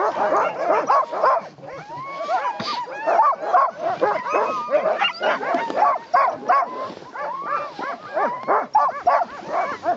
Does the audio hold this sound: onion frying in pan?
no